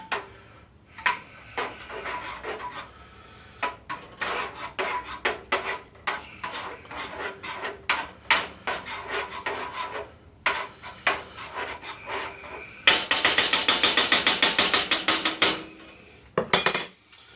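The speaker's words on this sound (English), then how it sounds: "I'm going to want to stir this up" A spoon stirs chili mac ingredients in a pot, making repeated scraping clinks against the metal in an uneven rhythm, close and clear, with a longer burst of fast rapid scraping near the end and no talking.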